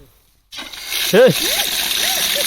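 Water gushes from an outdoor tap at a forest hut in Denmark, starting abruptly and running as a steady, close splash while someone speaks over it.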